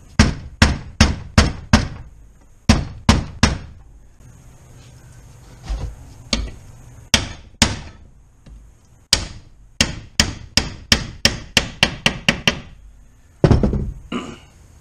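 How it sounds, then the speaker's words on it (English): A large hammer strikes a transmission bearing into a Yamaha Warrior 350 case, sharp metallic blows in quick bursts of four to six with short pauses, close and loud. "I had to hit it with a bigger hammer"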